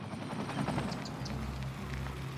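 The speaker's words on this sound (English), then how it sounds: "helicopters are going back to the depot" Fire helicopters fly in a city-building video game, making a steady low rotor thrum with a fast choppy pulse, moderately loud and continuous throughout.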